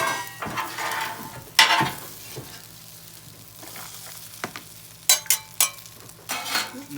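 Rice tipped into a hot pan with beef sizzles loudly, a dense frying hiss with bursts of spatter and several clanks of a utensil scraping and stirring against the pan, no talking.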